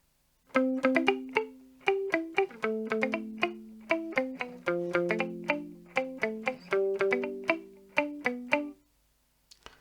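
A guitar plays a short 1950s doo-wop ballad chord progression, each chord struck and ringing briefly before the next, steady rhythm, no talking.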